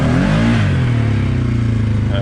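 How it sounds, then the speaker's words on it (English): A motorcycle engine with a new clutch kit is held against the rev limiter, a loud, steady high-revving drone with a rapid stuttering pulse, close up, with a voice talking over it. "I think I'm bouncing off the rev limiter pretty good"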